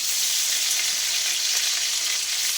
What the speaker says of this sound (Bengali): ওই তেলটার মধ্যেই আমি দিয়ে দিলাম একে একে কেটে রাখা টমেটোগুলো।